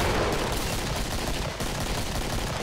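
Sustained Kalashnikov rifle fire in the video game Killing Floor, a dense continuous roar of automatic shots with no pauses, loud and alone without talk.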